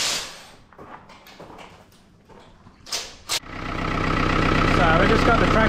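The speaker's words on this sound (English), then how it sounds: "So we've just got the tractor running now," A tractor engine starts after a quiet stretch with faint sounds and talk, then settles into a steady, loud, close idle that fills the rest of the clip.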